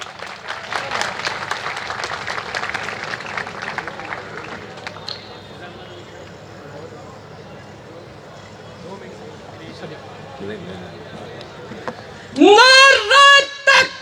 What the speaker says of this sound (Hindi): इनके इस्तकबाल के लिए भरपूर तालियां